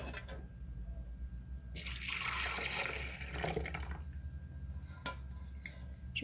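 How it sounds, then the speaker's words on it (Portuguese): Dissolved gelatin is poured into a blender in one brief liquid splash and gurgle lasting a couple of seconds, followed by a few light clinks of utensils against the container over a low hum. "Agora eu coloco no meu liquidificador"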